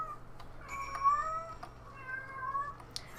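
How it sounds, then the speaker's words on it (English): A cat yowls indoors in a series of drawn-out, wavering meows, fairly faint and close, with a low steady hum underneath. "I can hear my cat yowling."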